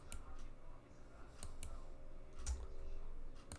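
A computer mouse clicks during desktop work, giving a handful of crisp, faint clicks scattered irregularly over a steady low room hum.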